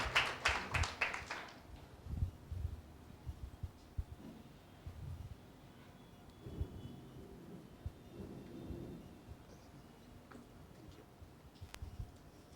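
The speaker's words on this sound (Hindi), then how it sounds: "आइए एक जोरदार ताली देंगे परमेश्वर के नाम की महिमा के लिए।" A church congregation gives a short burst of applause for God's glory, loud and dense at first and then quickly dying away into a quiet room with only faint scattered sounds.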